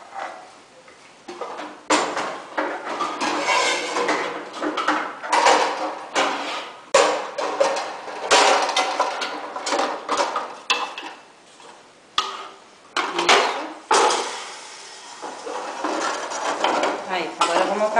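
A cooking pan clatters and scrapes repeatedly while a caramelized orange dish is prepared, with sharp metallic knocks and stirring sounds coming close and loud in irregular bursts, and brief speech in between.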